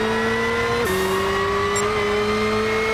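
Rally car engine in Gran Turismo 6, a 4WD rally car on a super lap, holding a steady high drone that dips and shifts pitch as the throttle changes, loud and continuous with no talk.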